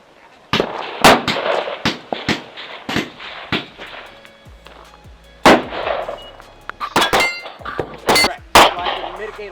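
Rifle shots at an outdoor range with steel targets set from 50 to 600 yards, each sharp crack followed by a distant metallic ring, a dozen or so spaced irregularly through the stretch.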